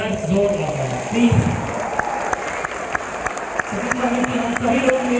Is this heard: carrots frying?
no